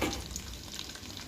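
Onions and cumin seeds frying in oil in a pan for a palak dish give a brief, faint, steady sizzle with no talking.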